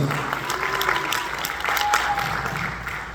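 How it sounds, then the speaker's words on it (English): Applause for the real-life Lois and Peter Griffin look-alikes from an audience, a steady clatter of many hands lasting a few seconds, fairly close and loud, with murmurs of a crowd beneath. "Can you give a round of applause for them, please?"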